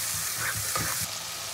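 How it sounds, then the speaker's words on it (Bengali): Spice masala for a chicken curry is being sautéed in a pan, giving a short burst of close sizzling with a few soft stirring scrapes. "মশলা খুব ভালো করে কষিয়ে দিয়ে তবে আমি চিকেনটা দেবো"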